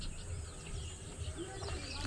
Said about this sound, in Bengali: চারপাশে প্রচুর পাখি ডাকছে, প্রচুর।